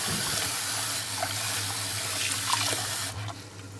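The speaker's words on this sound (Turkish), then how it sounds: "Üçüncü yıkamamız devam ediyoruz. İyice yıkıyoruz." Rice being washed in a bowl under running water while preparing lentil soup, with a steady rushing stream and light splashing that stops abruptly near the end.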